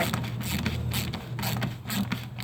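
Ratchet working an 8mm fastener loose on a 2013-2016 Dodge Dart during a fog light replacement, giving steady rapid mechanical clicking over a constant low hum, close and continuous with no pauses.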